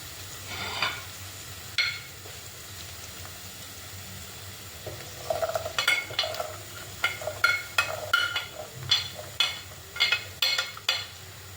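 Shallots sizzle and fry in a pan for a roasted-coconut Kerala chicken curry, a close, steady crackle broken by rhythmic scrapes and clinks of a spoon stirring against the pan.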